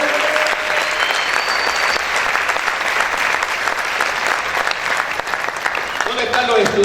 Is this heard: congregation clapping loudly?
yes